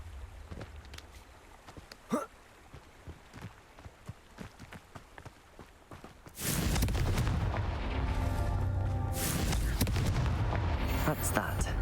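A Confringo blast spell explodes in Hogwarts Legacy, a sudden loud burst that swells into a sustained roaring rumble with crackling debris. Softer game sounds and footsteps come before it.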